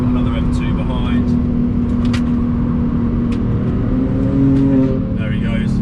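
A BMW M2 on the Nürburgring Nordschleife is close behind, its engine a steady, loud drone with rising pitch under continuous talking inside another car's cabin.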